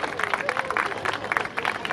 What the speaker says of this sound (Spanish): Escuche fuerte el aplauso para estas chicas.